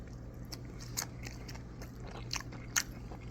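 Crisp bites and crunchy chewing on a fried Popeyes chicken wing, close to the mouth, with several sharp crackling crunches spaced irregularly over a quiet background.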